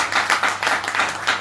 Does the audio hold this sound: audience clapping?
yes